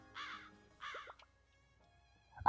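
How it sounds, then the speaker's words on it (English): Crows cawing in the video game Blue Archive, two clear harsh caws close together followed by faint bird chatter and a short noisy burst at the end, fairly quiet overall. "there's a murder of crows"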